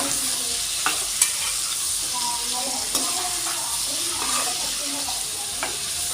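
Ivy gourd fry stirred with salt in a pan: a steady sizzle under scraping spoon strokes against the pan, with occasional sharper clinks, continuous and close.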